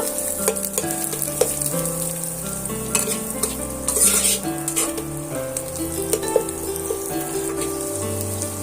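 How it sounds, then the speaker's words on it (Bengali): Scrambled egg crackles and sizzles loudly in a hot pan while a spatula pushes and scrapes it around in repeated strokes, breaking it into small pieces, close and continuous. "এবার আমি খুন্তি দিয়ে ডিমটা এইভাবে এইভাবে নেড়ে নেড়ে ছোট ছোট আকারে পরিণত করে নেব"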